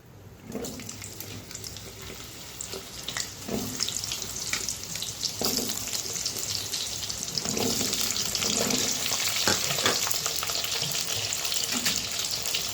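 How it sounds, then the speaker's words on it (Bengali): Pointed gourd (potol) slices frying in hot oil left from browning paneer, a steady broadband sizzle that builds and holds, with occasional soft clicks of the utensil throughout. "এই একই তেলে আমি পটলগুলো ভেজে নেব।"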